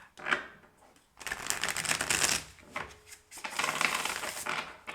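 Two bursts of cards being riffle-shuffled, a quick flutter, a short pause, then another longer riffle, close and crisp.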